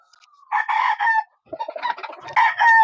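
Chickens and roosters on a farm cluck and call loudly and close by in repeated bursts, with a drawn-out crow-like call near the end and brief pauses between.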